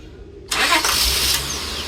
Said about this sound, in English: We are now going to start the car.